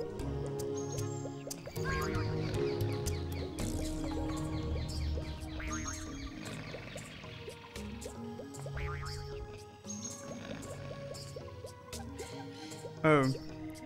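Chirping birds in the video game Super Monkey Ball Adventure, many short high calls scattered through a busy bed of game music and effects, fairly quiet throughout with a brief louder burst near the end.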